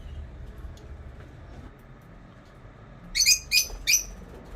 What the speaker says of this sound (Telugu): ఇక్కడ బర్డ్స్ ఉంటాయి